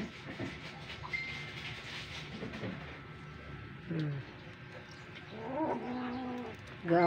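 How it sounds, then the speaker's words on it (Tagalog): Small kittens squabble close by, with scattered thin meows and a few rising caterwauls over low background hum, loudest near the end. "Gaaway pa mga kuting na to"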